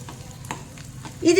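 Soft crackling sizzle of spices and asafoetida frying in hot oil, with a few faint clinks, ending in a brief louder burst of noise.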